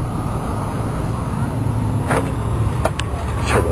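Car rolling past at a drive-in car show, a steady low engine rumble with road noise throughout, moderately near and constant, with faint voices in the background.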